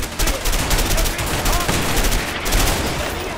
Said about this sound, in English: Somebody else stop shooting.